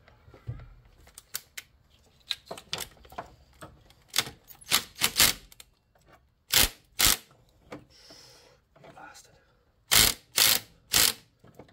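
A Ryobi cordless impact wrench working on an alternator bolt, firing in short bursts of rapid hammering rattles separated by pauses, close and loud, with quieter clicks and handling noise between.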